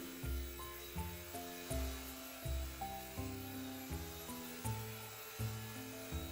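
An Eachine E119 four-channel flybarless RC helicopter hovers indoors with a steady, faint, buzzing whine that pulses and shifts in pitch as the motor adjusts, and no one speaks.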